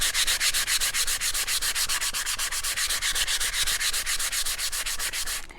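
Sandpaper rubs along the edge of painted wood in quick, regular back-and-forth strokes, a close, steady rasping rhythm that continues without pause and has no talking.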